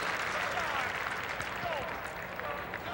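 Crowd applause at a 1993 Syracuse versus Towson college lacrosse game, a steady broad wash of clapping from the stands for a departing local player, with commentators' voices running over it throughout.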